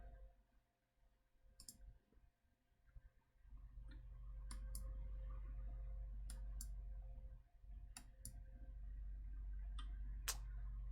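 A computer mouse clicks quietly and sparsely, about ten sharp ticks at uneven intervals over a low, steady hum from a desk setup during image processing.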